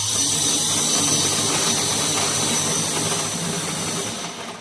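A small saree pico edging machine runs with a loud, steady high-pitched whir and hum that tapers off slightly at the end.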